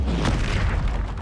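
A Bombarda explosion spell from the video game Hogwarts Legacy, a deep rumbling boom that rolls on for over a second at steady loudness, alone without talk.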